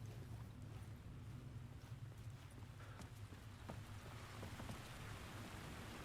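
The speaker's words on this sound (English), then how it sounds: "Oh god, it's raining, is it?" Rain falling steadily in Alan Wake 2, a soft continuous hiss of drops on surfaces with faint scattered taps, quiet and even throughout.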